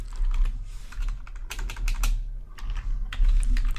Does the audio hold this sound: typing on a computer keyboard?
yes